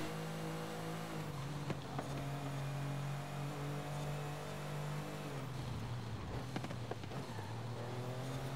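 A Porsche Turbo engine in the racing game Forza Horizon 5 hums at a steady, quiet pitch, then drops and shifts as it changes gear, with faint background game sounds.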